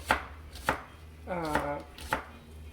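A knife slices green onions very thin on a cutting board, giving four sharp, evenly spaced chops, with a brief tonal squeak or hum in between.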